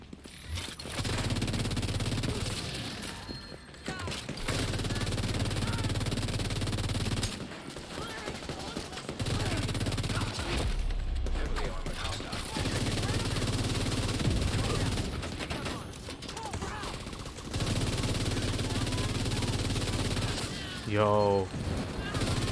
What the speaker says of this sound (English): the rate of fire on this FAMAS is so nice